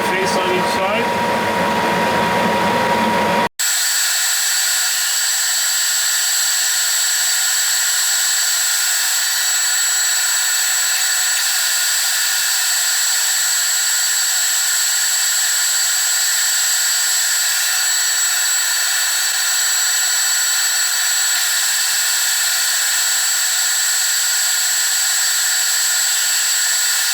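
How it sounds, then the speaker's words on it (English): Lathe facing off a metal part: a steady, continuous machining whine with a bright tonal ring carries on for over twenty seconds at close range, following a few seconds of talk. "face off this part. Get a clean face on each side."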